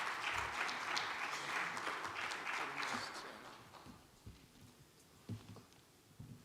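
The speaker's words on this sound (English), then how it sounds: "Let's give them a round of applause" Seminar audience at a G20 event claps for a panel, a full round of applause that fades after about four seconds into a few scattered claps and room noise.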